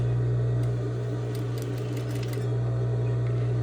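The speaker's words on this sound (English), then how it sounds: "So I'm stitching and back stitching, and now I'll do my sewing." A sewing machine runs steadily, stitching and back-stitching a seam with a constant motor hum, close and alone, with a few brief ticks in the middle.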